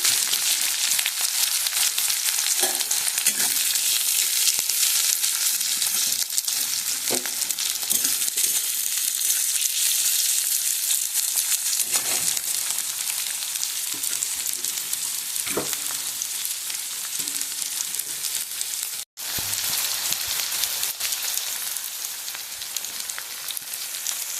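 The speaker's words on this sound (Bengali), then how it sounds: "তেলটা দেখো অনেক গরম হয়ে গেছে। এখানে বেশ কিছুটা পেঁয়াজ কুচি দিয়ে দেবো।" Chopped onions sizzling in very hot fish oil, a dense, steady crackling fry that carries on loudly for the whole stretch with occasional stirring noises and a brief cut partway through.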